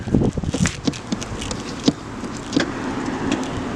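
A Jeep Cherokee Limited power tailgate closes with a close, buzzing electric motor whine punctuated by several small clicks and taps, ending in a firmer latch-like knock.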